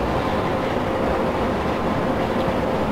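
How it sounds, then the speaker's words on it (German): A train rumbles steadily past on the Hannover–Uelzen line in Train Simulator 2015, a dense, continuous roar of wheels and wagons with no letup, loud and close throughout and with no voices. "Oh, noch ein Zug da."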